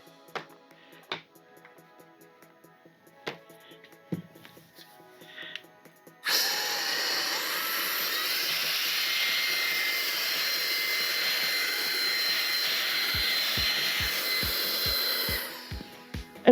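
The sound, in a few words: K&F Concept BS500M electric air duster running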